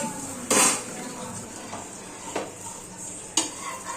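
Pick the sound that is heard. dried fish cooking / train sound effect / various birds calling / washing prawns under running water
dried fish cooking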